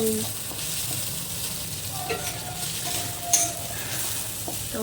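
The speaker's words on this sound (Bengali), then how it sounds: "আর এদিকে মাছ ভাজা।" Fish frying in a pan on a home kitchen stove, a continuous close sizzle and crackle with a few faint utensil clinks, no talking.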